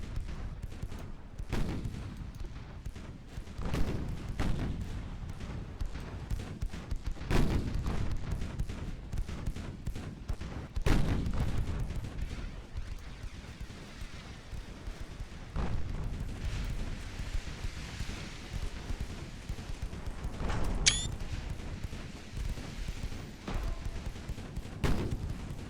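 Secondary guns on warships fire in the naval game Ultimate Admiral Dreadnoughts, a ragged series of heavy booms and cracks at irregular intervals, some close and loud, others distant, over a constant battle rumble.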